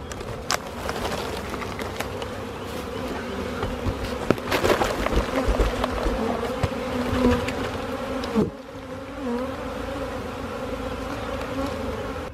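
Many bees buzz steadily and densely for the whole stretch, a close, continuous hum with brief bumps and knocks.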